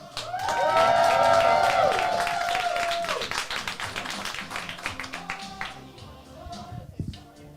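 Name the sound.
audience applause for a comedian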